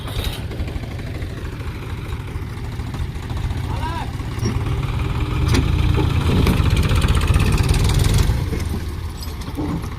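A tractor engine runs steadily nearby with a low rumble, rising in effort midway while a second tractor works to pull out one stuck in a muddy, filled-in water pit in a farm field.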